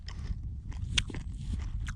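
Someone bites into crunchy dried chips and chews them up close during a canoe trip, with several sharp crunches and softer chewing noises in between.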